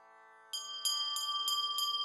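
A small handheld puja bell is rung during an incense (dhupa) offering, striking about five times in a quick, even rhythm over a steady sustained drone.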